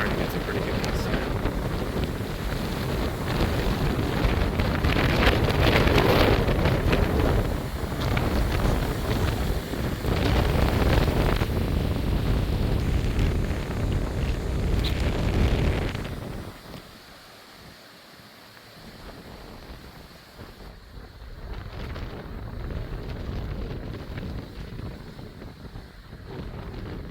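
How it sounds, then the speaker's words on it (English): Strong, gusty wind roars during a thunderstorm, buffeting the microphone in heavy rushing bursts for about fifteen seconds before easing to a lighter, fluctuating blow. "Starting to get some pretty good gusts now."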